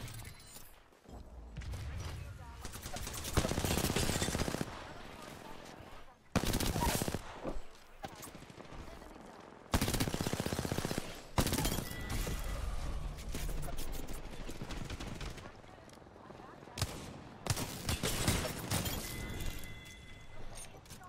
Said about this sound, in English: They're already getting shot at by another team.